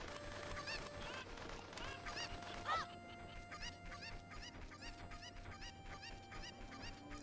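Chickens clucking and squawking in The Legend of Zelda: Ocarina of Time, a dense flock of game-sound clucks over steady background music, with no talking.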